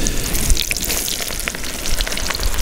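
Battered onion pieces deep-frying in hot oil, a dense continuous crackling sizzle with scattered sharp pops, close and loud, with no voices.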